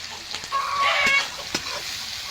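Onion, garlic and tomato sizzle steadily in a pan for mutton curry, close and moderately loud, with a few spatula scrapes and knocks while they are stirred.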